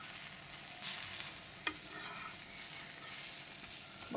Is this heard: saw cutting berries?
no